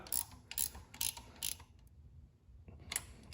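A ratchet wrench tightens exhaust manifold bolts on a Fiat 500 Abarth during a turbo install, with several quick close clicking bursts, a short pause, then one more burst of ratcheting.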